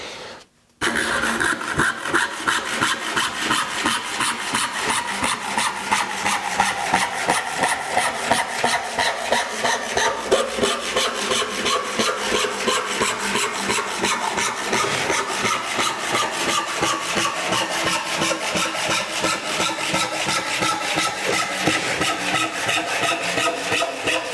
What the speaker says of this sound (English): 12 points per inch RIT panel saw. It's really perfect for stock that's already planed